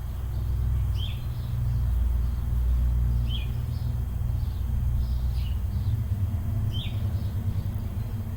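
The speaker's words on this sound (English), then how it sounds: "Maybe hear the birds." Outdoor birds chirp in short, high calls that repeat roughly every couple of seconds, fairly faint and distant over a steady low rumble of passing traffic.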